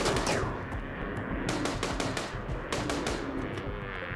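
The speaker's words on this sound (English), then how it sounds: "I'll just start shooting at the winners" Rapid gunfire from the colony-sim video game RimWorld, with dense bursts of automatic shots and separate sharp cracks layered over a steady roar of battle, loud and continuous throughout.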